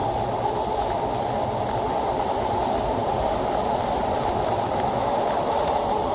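The Madhumati Express passenger train rolls onto the Padma bridge, heard from on board as a loud, continuous rumble of wheels and carriage noise with no let-up.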